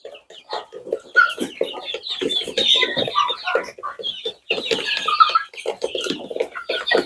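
A flock of 60-day-old chicks and young roosters clucks and chirps continuously, many overlapping calls from close by, with occasional louder squawks and no voices.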